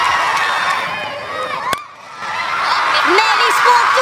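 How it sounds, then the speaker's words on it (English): A cricket crowd roars and cheers through a Big Cricket League semi-final between the Northern Challengers and Southern Spartans, a dense, steady wall of noise that dips briefly, then swells again with scattered whoops and voices mixed in. "Crowd cheering. What a reception!"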